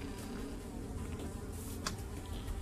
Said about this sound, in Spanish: Estoy oyendo como unas moscas.